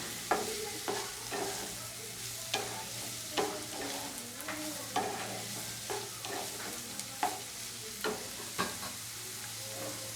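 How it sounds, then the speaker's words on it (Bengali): Vegetables for shukto are stir-fried in a pan, with a soft constant sizzle broken by a regular series of close spatula scrapes and knocks against the metal. "এবার এটাকে আমি আরেকটুখানি ভালো করে করে নেব, একটু ভাজা ভাজা করে নেব"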